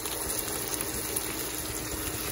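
Water is poured into a pan of simmering stroganoff, producing a steady, even hiss and bubbling wash that holds at a moderate level throughout.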